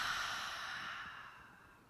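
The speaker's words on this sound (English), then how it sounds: "Breathe out." A long, soft exhale during a beginner yoga class, a steady breathy hiss that slowly fades over about two seconds, close and quiet with no talking.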